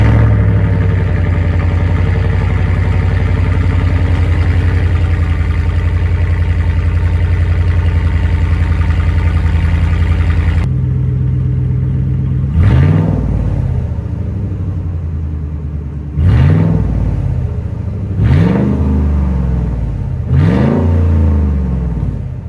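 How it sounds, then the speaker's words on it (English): Gen 1 2013 Ford F-150 Raptor with resonator and muffler deleted for straight pipes, loud steady cold-start idle rumble, then a brief gap followed by four sharp revs that swell and fall back, close and alone. "I will give you guys a cold start in the morning with some revs"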